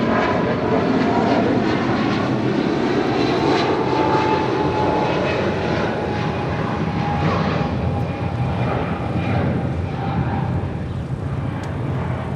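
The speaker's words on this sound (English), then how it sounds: "This is United Airlines 1170 taking off to Honolulu on a 777-200." A United Airlines Boeing 777-200 departs LAX for Honolulu, its jet engines producing a loud, sustained takeoff roar with a thin tonal whine. The rumble stays strong and only eases slightly as the aircraft pulls away.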